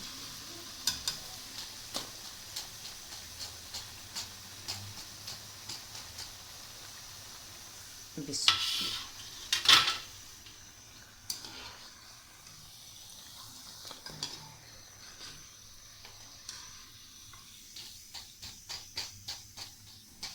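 Potato popcorn frying in hot oil, a quiet close sizzle dotted with regular small pops and ticks, with a couple of louder stirring clatters midway and faint speech in the background.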